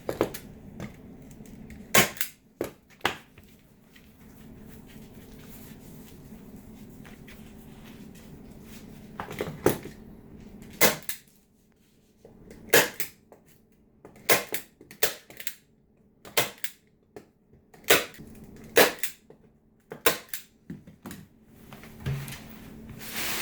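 A staple gun fastens fabric onto a display board, firing a long, irregular series of sharp, loud snaps separated by short pauses.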